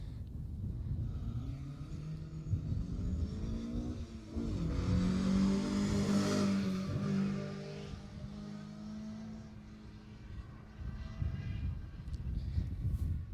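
A Ford Escort rally car powers through a rally stage, its engine rising and falling as it approaches, passes and fades, heard from the roadside among steady outdoor background noise.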